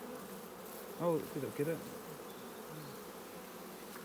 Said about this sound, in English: Wasps are nicking their honey now.